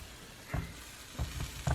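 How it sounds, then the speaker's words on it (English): Soft sizzling hiss from a tortilla in a hot pan, with a few low thumps as food is pressed or moved, heard close and quiet. "You can hear that sizzle."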